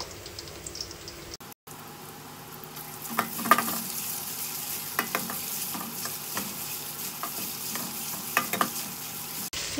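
Sliced onions and ginger-garlic paste fry in a hot pan with a steady, fairly quiet sizzle, broken by scraping stirs and small pops, after a brief pause near the start.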